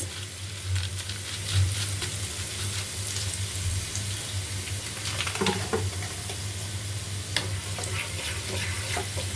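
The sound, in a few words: chili flakes frying in a pan for momo sauce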